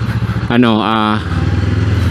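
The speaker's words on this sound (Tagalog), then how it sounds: "painitin muna natin yung ating motor bago tayo umalis." A Honda CB500X motorcycle engine idles after a cold start with a rhythmic low chug, and a voice speaks briefly over it in the middle.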